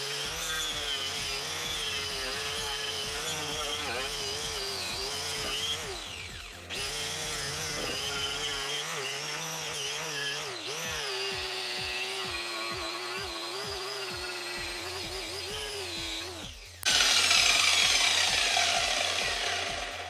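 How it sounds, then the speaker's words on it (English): A small cut brush on a power tool grinds thick underbody sealer off a Mk2 Ford Fiesta XR2, a loud, steady whirring abrasion close by that changes pitch as the load varies and briefly cuts out before surging back louder. "I'm going to get our little cut brush now and get rid of all the sealer underneath there"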